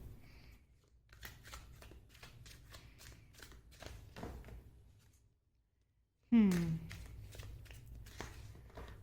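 Tarot cards are handled and shuffled in soft rustling bursts under a woman's speech, then a brief silence, followed by a louder, closer riffle of the deck.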